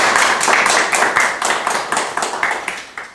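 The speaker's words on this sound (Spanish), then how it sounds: "pues le damos otro fuerte aplauso" A lecture audience claps after a talk on the stability of the Solar System, a close, loud burst of individual hand claps with a quick, uneven rhythm.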